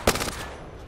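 A single sharp burst of video game gunfire right at the start, loud and close, decaying into a low rumbling tail with no talk over it.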